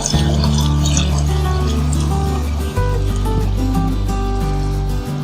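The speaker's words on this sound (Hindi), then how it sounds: "तीन गिलास अभी मैंने इसमें पानी डाला और अभी मैं और इसमें पानी डालूंगी" Water poured into a pot of cooking chana dal with meat, a continuous splashing, gurgling stream with shifting pitch as the level rises, loud and close.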